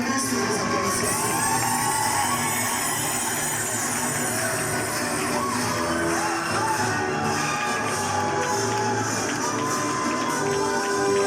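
Wedding guests cheer and acclaim loudly and continuously, a dense wall of yells, whoops and shouting voices from a large crowd filling the whole stretch.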